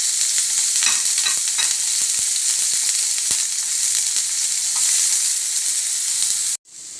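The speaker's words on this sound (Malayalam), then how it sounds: "അതിലേക്ക് നമുക്ക് ചെറിയുള്ളിയും വെളുത്തുള്ളിയും ചതച്ച് വെച്ചത് ഇട്ട് കൊടുക്കാം." Crushed shallots and garlic fry in hot coconut oil, producing a steady, close sizzle with occasional crackles and stirring scrapes, continuing until an abrupt cut near the end.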